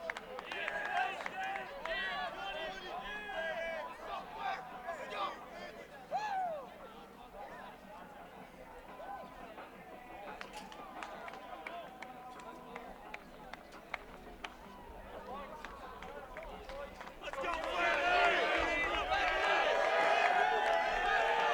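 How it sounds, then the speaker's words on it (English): Crowd murmur and scattered cheers fill the stands at a top-10 MCLA college lacrosse matchup between ASU and SDSU, a steady far-off babble that swells louder near the end. "We've got a pretty nice crowd on hand here for a top 10 MCLA matchup"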